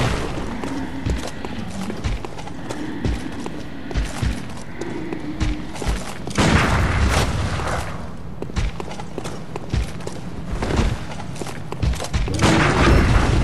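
Quicksilver bullets fired in Bloodborne, scattered loud cracks and booms spread across a busy combat scene, with bursts of heavier impacts and rumbling in the second half.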